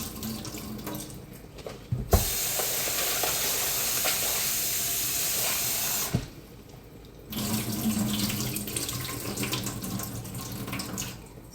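Tap water runs into a sink while lentils are washed by hand, a steady loud gush from about two to six seconds, then a softer splashing, swishing flow of rinsing afterward.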